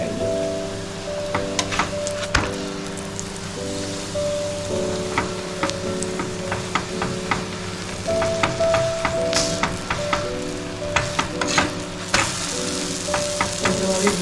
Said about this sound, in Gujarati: બંને બાજુ આપણે ઘી ઉમેરીને શેકી લીધી છે